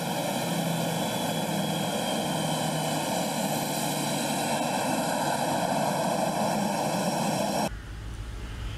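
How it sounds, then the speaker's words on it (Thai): A royal aircraft departing for Bangkok gives a loud, steady engine drone with a whining tonal hum. It holds for several seconds, then cuts off abruptly into quieter low rumble. No voices are heard. "ก่อนประทับเครื่องบินพระที่นั่งเสด็จพระราชดำเนินกลับกรุงเทพมหานคร"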